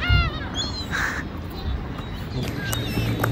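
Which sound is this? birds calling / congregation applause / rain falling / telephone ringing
birds calling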